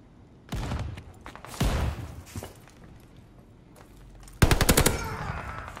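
Automatic gunfire in the Call of Duty Vanguard gun game mode: three loud, rapid bursts of shots with quieter gaps between them, the final burst the heaviest.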